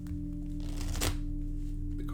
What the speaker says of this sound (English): We will control it again with a riffle shuffle.